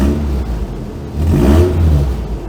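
A Toyota Prerunner pickup truck engine idles with the blower motor and headlights switched on, then revs up in a swelling mid-length burst before easing back to a steady idle, close and loud.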